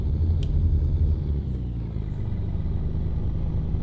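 A Volvo NH12 truck engine in American Truck Simulator drones with a steady, deep rumble while driving, loud and continuous with a low idle-like throb throughout.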